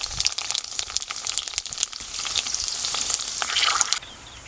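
Fuchka (puchka) puris frying and puffing in hot oil give a steady, close, crackling sizzle with dense popping that swells and then drops off abruptly near the end, with no voices.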